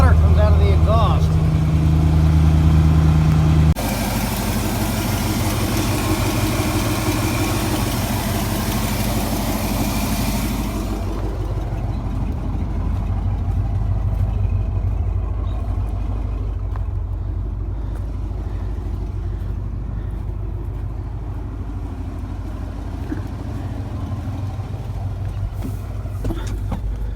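A truck engine idles steadily with a low, even rumble throughout, after a brief louder burst of different noise at the start.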